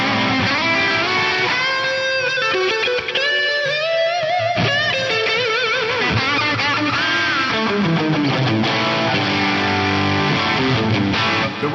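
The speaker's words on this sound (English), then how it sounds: "The Echo Hall is my go-to now if I just want an all-in-one delay and reverb." Guitar through an Echo Hall delay and reverb effect on a MEGA FM9, distorted, sustained notes with repeating echoes and a wash of reverb, loud and continuous, no talking.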